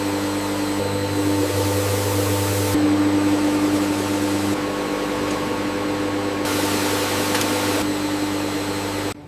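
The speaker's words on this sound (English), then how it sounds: "The smallest granules receive an additional fine grinding pass" A factory machine finely grinding Himalayan pink salt, a steady loud mechanical whir and hum with a few abrupt shifts in its noise, running continuously and alone.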